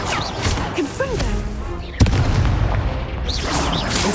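A Confringo spell blast in the game Hogwarts Legacy: one sharp, loud boom at mid-clip amid battle noise and whooshing spell effects, with a voice calling out spell names nearby.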